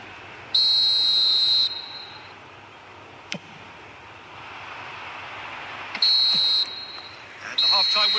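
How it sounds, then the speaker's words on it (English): A referee's whistle in the eFootball mobile football video game, three sharp blasts with the first and last long and the middle one shorter, sounding over low crowd ambience and commentary. "And the half-time whistle goes."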